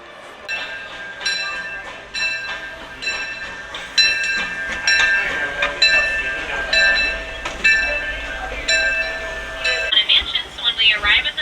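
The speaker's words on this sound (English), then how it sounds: "Welcome aboard the Disneyland Railroad." The Disneyland Railroad train rolls along with repeated metallic clicks and clacks, a sustained whistle-like tone and bright clanks, close and fairly loud, while a voice speaks over it.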